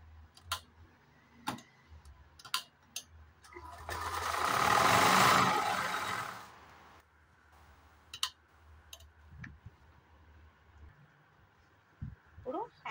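A sewing machine stitches a folded seam in short bursts, with a sustained whirring run in the middle and scattered ticking clicks between, a nearby speaker talking quietly over parts of it.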